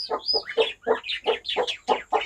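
Close, steady clucking from a crested farm hen tending her chicks: about eight short calls in quick succession, with no voices over them.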